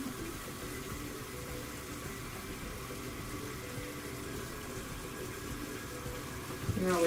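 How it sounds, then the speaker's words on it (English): Tap water running steadily into a bucket for a foot soak, a continuous faint splashing stream with no talk, swelling slightly louder at the very end. "You want to fill the bucket up about halfway, just enough to cover the foot as we soak it before we wash."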